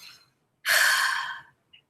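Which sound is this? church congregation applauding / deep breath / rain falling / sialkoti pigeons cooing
deep breath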